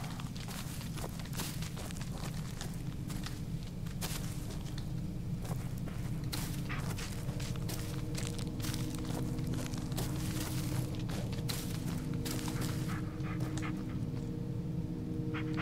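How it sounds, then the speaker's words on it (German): A dog pads along in the Blair Witch video game, its panting and soft footsteps continuous and close over a dense, rustling game ambience with scattered clicks. "Hundi geht weiter."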